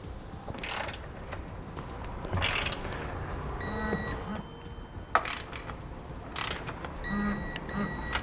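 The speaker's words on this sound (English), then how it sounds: "Now we can torque all of our hardware to the amount specified in the instructions." A wrench torquing the mounting hardware of a Roadmaster crossbar-style base plate on a 2017 Chevrolet, steady ratcheting clicks and faint mechanical beeps at a moderate level, alone without speech.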